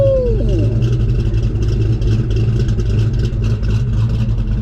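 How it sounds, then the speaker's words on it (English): A Paxton-supercharged 306 Fox-body Ford Mustang GT with an aggressive cam idles loud and close, its choppy, loping rumble pulsing steadily with a faint supercharger whine above it. "Let's listen to this cam lope a little bit."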